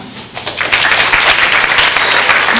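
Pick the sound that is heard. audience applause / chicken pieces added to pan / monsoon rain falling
audience applause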